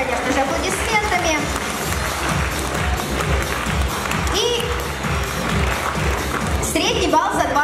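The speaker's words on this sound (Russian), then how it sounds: "Давайте еще раз поблагодарим наших партнеров, конечно же, аплодисментами." Audience applause for event partners at a KVN-style competition, a steady wash of many hands clapping that fills the hall throughout, with a few voices underneath.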